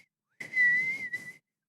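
Someone whistles a steady, sustained note that wavers slightly, breaks off briefly, then resumes for a short second stretch, clear and close with no talking over it.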